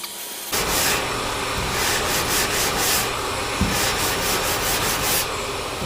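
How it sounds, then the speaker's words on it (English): Steady rasping of 80-grit sandpaper worked back and forth over cured body filler on a car dent, loud and close, with a rhythmic rubbing pulse and no talking. "so we're gonna go ahead and sand this again with 80."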